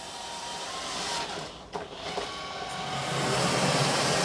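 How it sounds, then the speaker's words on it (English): A Roborock Q5 Pro or Narwal Freo X Plus robot vacuum, mop pad raised, ramps up suction on carpet, a steady broadband whoosh that grows louder and fuller over several seconds, with a brief bump partway through. "So it's going to increase suction and clean the carpet now, with its mop pad raised."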